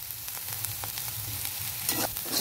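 Potatoes fry with bottle gourd peel in a pan, making a steady, close sizzle with faint stirring clicks and crackles throughout and no speech.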